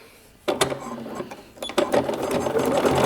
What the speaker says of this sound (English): I've turned down 3/4 and I'm sewing on the 5/8.